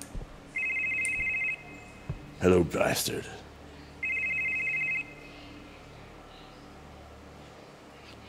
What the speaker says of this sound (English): There was a phone that rang.